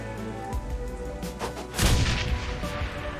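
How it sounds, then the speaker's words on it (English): Grenade explosion in Shadowrun Hong Kong, a heavy booming blast with rumbling low-end impacts midway through a busy game soundscape, preceded by lighter thuds and followed by settling debris. "Wow, a grenade."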